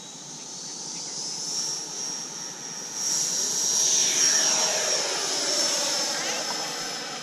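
Freewing MiG-29 Fulcrum RC jet taking off from a soft, wet field, its high-pitched ducted-fan whine swelling and shifting as it passes close, then easing as it climbs away.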